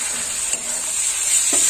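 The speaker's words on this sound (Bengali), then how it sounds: "দিয়ে দিলাম আদা রসুন বাটা" Ginger garlic paste frying in oil with onion and turmeric, an even close sizzling hiss with one or two faint stirring taps.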